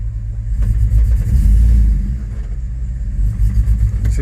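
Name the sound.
Chevrolet Tahoe 5.3L engine revving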